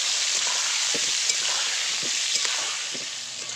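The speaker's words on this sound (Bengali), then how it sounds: "তেল গরম হয়ে গেছে এবার কেটে রাখা আলু দিয়ে দেবো একটু লবণ দিয়ে দেবো দিয়ে দেবো অল্প করে হলুদ গুঁড়ো করে একটু লাল লাল করে ভেজে নেবো" Cut potatoes with salt and a little turmeric sizzle steadily in hot oil, a close, even hiss with occasional small pops and crackles and no talking.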